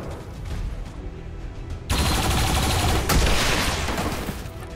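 Loud sustained gunfire in the video game XCOM 2, dense rattling fire that jumps in intensity partway through and keeps going with booming impacts underneath.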